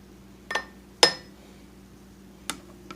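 Three sharp clinks from an ice cream scoop knocking against a big mug while coffee is made with a Nespresso Inissia machine and Aeroccino, spaced apart with quiet between them.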